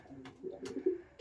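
Racing pigeons back at the loft after a long race, giving soft low cooing calls that swell in short phrases, close by and fairly quiet against faint background noise.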